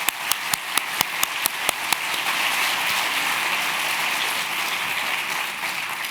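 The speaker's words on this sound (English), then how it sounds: "will you join me in giving all of them a round of applause" An audience at an arts prize ceremony claps: a few sharp, separate claps at first, then a dense, sustained round of applause that fills the rest of the clip evenly.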